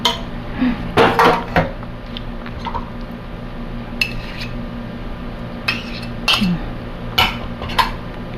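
Vegetable salad with avocado being tossed in a bowl, with close, intermittent clinks and scrapes of utensils against the dish between quieter stretches.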